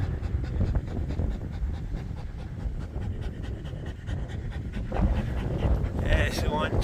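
A tired puppy pants hard after digging a hole outdoors on a windy day, with quick, rhythmic breathy huffs up close, under gusting wind noise and a person talking.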